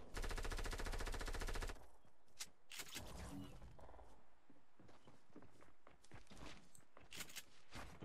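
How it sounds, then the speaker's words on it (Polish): Rapid bursts of automatic gunfire from players shooting each other in a Fortnite solo match, a loud dense rattle for the first two seconds followed by scattered shots, footsteps and game noise. "Strzelają się mocno."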